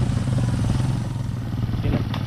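A kolong-kolong motorcycle engine runs close by on a farm, a loud steady putter with a rattly low throb and brief higher revving toward the end.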